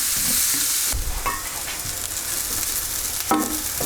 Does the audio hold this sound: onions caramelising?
yes